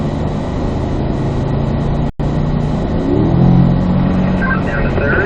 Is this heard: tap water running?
no